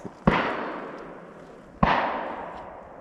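Two sharp, distant gunshots from other deer hunters ring out about a second and a half apart, each with a long echoing decay across open woods at dawn.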